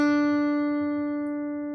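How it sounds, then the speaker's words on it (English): A single note plucked on a dobro with a pick rings out clearly and alone, starting loud and slowly fading over its length, with a faint pick noise near the end. "when you pluck a note"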